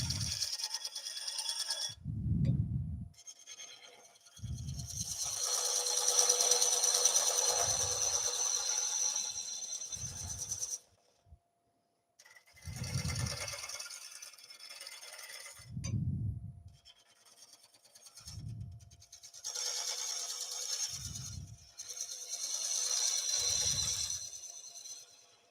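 A skew chisel shaves across a wooden gate post finial spinning on a lathe, giving repeated close, raspy cutting passes that swell and fade over a low motor hum, with short pauses between strokes.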